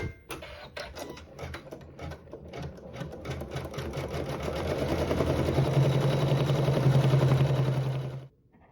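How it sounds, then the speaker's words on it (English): A domestic sewing machine stitches a tack-down seam through quilt fabric, starting with a few separate stitches and then running in a fast, steady whir that ends abruptly. "And sew the tack down."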